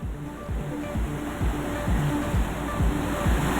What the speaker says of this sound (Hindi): सड़क पर बह रहे पानी में लहरें उठ रही हैं।